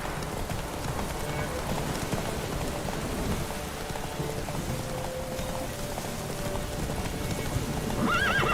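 Racing horse in The Witcher 3 video game, hooves clip-clopping in a steady gallop with neighing and game ambience under a speaking voice.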